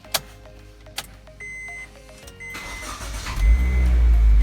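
A Honda Mobilio's engine starts after an engine flush: a couple of sharp clicks and a faint electric whine, then the starter cranks and the engine catches, building to a loud, steady idle.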